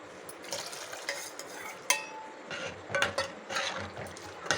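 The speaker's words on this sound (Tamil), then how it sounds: "கிரேவிக்கு ஏற்ற மாதிரி தண்ணி திட்டமாக வச்சுக்கிட்டு ஃபஸ்ட்டு நல்லா கொதிக்கணும்" Water goes into a pot of vegetarian liver gravy with soft splashing, stirring and clinks of metal utensils against the pot, close and fairly quiet, without any voices.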